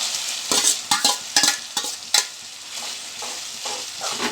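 Cooked tomato is poured into a pan of frying pepper and cumin, setting off a close, loud sizzle with sharp bursts and stirring scrapes in the first half, then settling into a steadier frying hiss.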